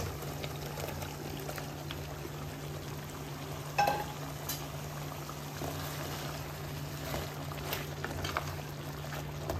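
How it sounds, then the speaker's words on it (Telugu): Butter chicken masala with fried chicken pieces simmering in a pan over a medium flame gives a faint, steady bubbling hiss, with a brief clink near the middle. "ఇది ఇలా ఉడుకుతూ ఉంది కదా బాగా"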